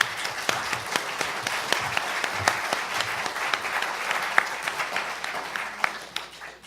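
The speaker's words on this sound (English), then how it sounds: "Thank you very much for your kind applause" An audience at a lecture on legal action against Israeli settlers applauds steadily, a dense patter of many hands clapping in a room, moderately loud with no talk.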